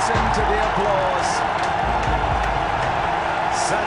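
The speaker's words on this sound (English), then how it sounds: "Listen to the applause." A cricket stadium crowd roars and applauds as Sachin Tendulkar reaches his century: a dense, steady wash of cheering and clapping with scattered louder claps.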